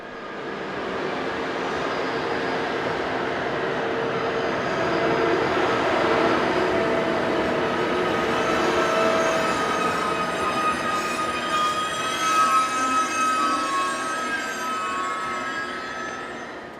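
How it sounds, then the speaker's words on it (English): A passenger train on the Interlaken Ost to Hamburg-Altona service pulls into a station with a loud, sustained rumble that swells and eases, joined by squealing wheels toward the end, with no voices. "Seen arriving here is the 1530 service from Interlaken Ost to Hamburg-Altona"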